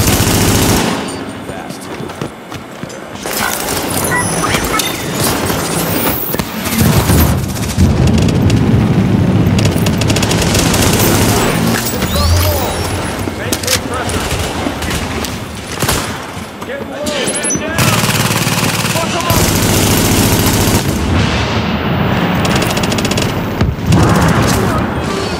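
Heavy automatic gunfire from The Division during a Russian Consulate firefight, with loud sustained bursts, booms and explosions filling the whole stretch, while voices talk over the shooting.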